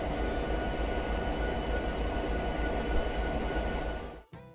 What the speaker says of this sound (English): train is slowing down